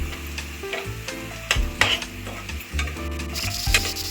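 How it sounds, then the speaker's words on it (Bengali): Spice masala sautéed and stirred in a pan for a bowal fish curry, with steady sizzling and frying under repeated scraping strokes of a spoon against the pan, close and moderately loud. "এখন এগুলোকে ভালো করে কষিয়ে নেব, তারপর জল দিয়ে দেব।"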